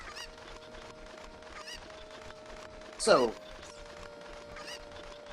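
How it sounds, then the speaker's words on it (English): A single loud, squawking chicken cluck bursts out partway through, heard in the N64 game Ocarina of Time over steady background game music, with someone talking briefly. "chickens."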